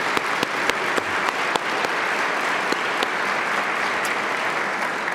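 Applause from an audience at a public event on ending the death penalty, a steady wash of many hands clapping at moderate volume with a few sharper individual claps standing out.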